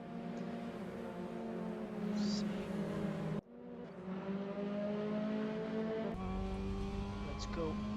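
Mazda MX-5 Cup race cars on a frantic qualifying lap at Sonoma, a steady, loud engine drone that shifts pitch through the gears, with a commentator talking over it throughout.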